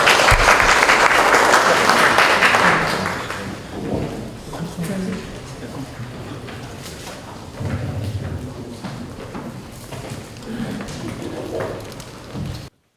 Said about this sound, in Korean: 허균영 교수님을 큰 박수로 단상에 모시겠습니다